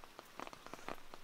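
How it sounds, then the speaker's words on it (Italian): Rain falling at an outdoor campsite, a steady patter of drops with scattered louder splashes on nearby surfaces, close and continuous with no talking. "Piove."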